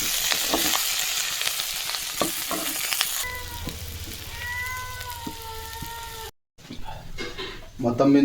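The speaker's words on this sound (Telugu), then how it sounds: "చికెన్ ఫ్రై అయితే అయిపోయింది ఫ్రెండ్స్ ఒక టెన్ మినిట్స్ కుక్ చేయాలి" Chicken sizzles in a pan for a chicken roast, with a busy crackle and stirring clatter at first. Then a cat meows repeatedly over quieter frying, with brief talking and a short dropout near the end.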